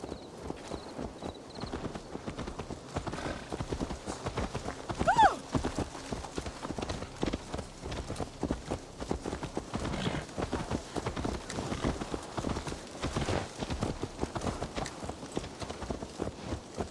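Horse hooves clip-clop steadily at a walk in the Assassin's Creed Valhalla video game, a continuous close rhythm of hoof strikes with a brief whinny and faint ambient game sounds.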